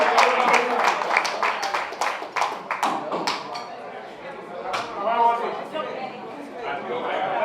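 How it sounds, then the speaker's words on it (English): Scattered clapping from a gala audience at the STUCO N.V. annual celebration on St Eustatius. Sharp claps are dense at first, then thin out into sparse, uneven slaps over low chatter and clinking. "give a great round of applause"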